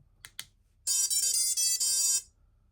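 FPV drone motors on a 5-inch build play a startup melody: two short faint chirps, then a loud, bright electronic tune of several sustained beeping notes with short gaps, cutting off into quiet.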